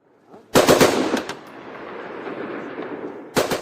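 A loud close burst of machine gun fire from an anti-drone team in Zhytomyr region, Ukraine, rattles out, followed by a lingering echo, then another short burst begins at the end.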